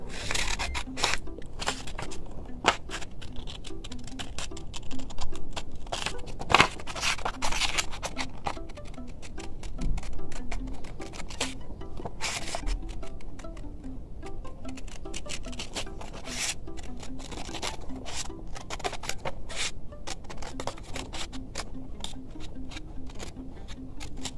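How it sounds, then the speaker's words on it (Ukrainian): Scissors snip and rustle through white paper while a circle is cut out, a steady run of small crisp cuts and paper rubbing, close and fairly quiet. "Вирізаємо кружечок з білого паперу."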